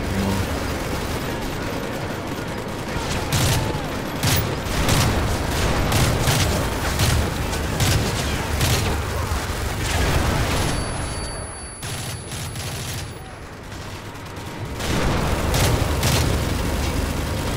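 Rapid bursts of gunfire in Call of Duty: Modern Warfare 3 crackle continuously, with booming impacts and sustained automatic fire over a busy, loud mix.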